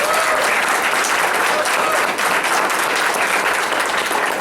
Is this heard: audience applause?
yes